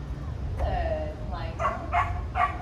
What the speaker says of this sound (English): He gets really excited and he barks through this whole thing.